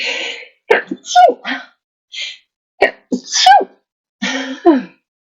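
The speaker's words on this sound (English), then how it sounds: "Sorry, I've got to sneeze." Several close, loud sneezes in quick succession, each preceded by a sharp breathy intake, with brief pauses between them.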